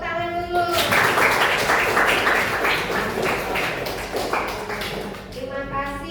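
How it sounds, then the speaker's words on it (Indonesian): Students clap together in a classroom, a dense round of applause that swells after a short pause and runs steadily for several seconds, with brief speech before and after the clapping. "Iya, tepuk tangan dulu."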